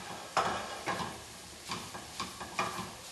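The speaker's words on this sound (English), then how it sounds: "So you're going to sit here and watch me stir this for 1 minute." A spoon scrapes and clinks against a pan while stirring a flour roux, giving about five soft, evenly spaced strokes over a faint sizzle, close and fairly quiet with no talking.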